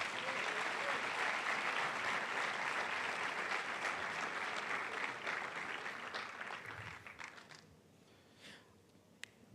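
Church congregation applauding together, a dense, loud wash of clapping that thins and fades out over the last few seconds, leaving a few scattered claps.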